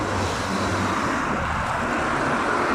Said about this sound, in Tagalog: Yan ang motor.